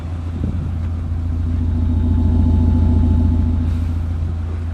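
A 3.0 TDI diesel engine of an Audi A6 allroad quattro idling steadily nearby, a low continuous rumble that swells slightly then settles, with no voices.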